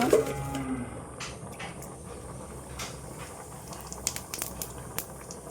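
Cumin seeds sizzle in hot oil in a kadai, a soft steady crackle and hiss close by, dotted with a few sharper pops and spits.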